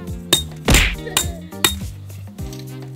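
A hammer strikes at a campsite, probably driving tent pegs, in a handful of sharp, close metallic knocks at an uneven pace, with ringing clinks between the blows.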